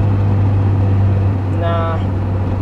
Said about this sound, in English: Double clutch fucking downshift here.